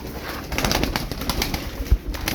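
A blue flying pigeon with a mirror tail coos and shuffles close by, with a brief sharp thump near the end, and no talking over it.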